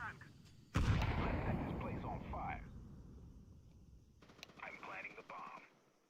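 Counter-Strike gunfire erupts in a sharp burst, then several shots ring out over the next few seconds, with players talking over the shooting.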